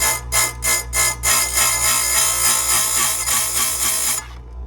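A chainsaw chain grinder sharpens chain teeth, loud and close. Several short rhythmic grinding bursts give way to a continuous whine that cuts off near the end, over a steady motor hum.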